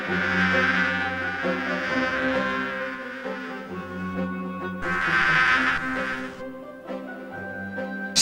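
Bees buzz in the Discworld 2 video game, a steady insect drone with layered tones that swells and fades over several seconds, carrying on without any talk.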